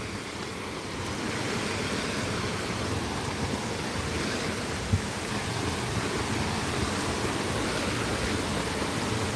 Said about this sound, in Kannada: ಇವಾಗಲೇ ನೀರಿನ ಸೌಂಡ್ ಜಾಸ್ತಿ ಕೇಳಿಸ್ತಾ ಇದೆ